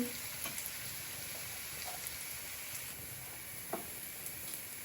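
Onion frying in a pan until it starts to brown for a buckwheat and mushroom soup, with a faint, steady sizzle and a few light stirring knocks at close range.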